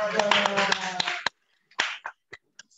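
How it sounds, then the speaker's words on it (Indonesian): Applause at a quiz show: a dense burst of clapping from a small group for about a second, then a few scattered, sharper claps trailing off into quiet. "Tepuk tangan."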